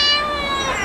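A cat meows loudly and close up in one drawn-out, wavering call, with harmonic tones and no talking.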